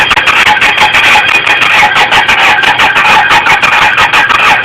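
A rebuilt engine in a school shop class runs after starting up, a loud, close, steady mechanical clatter with a fast even pulse and a bright hum, lasting throughout with no talking.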